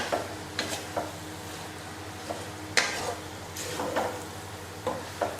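Pork legs are stir-fried in a pan for a Thai herbal braised pork leg dish, giving a continuous soft sizzle broken by scraping stirs and a few sharp clinks of utensil against the pan.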